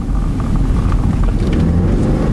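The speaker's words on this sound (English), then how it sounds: "Listen to that engine." A Toyota Camry engine rumbles steadily and loudly from inside the car as it accelerates, a dense low roar with road noise throughout.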